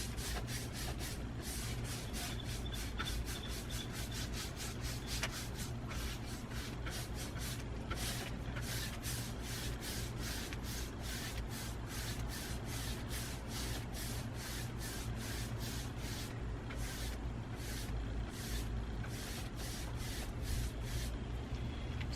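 A brush strokes Dixie Belle paint onto a front door on a second coat, giving a steady run of soft, rhythmic swishing rubs, close and fairly quiet, with no talk.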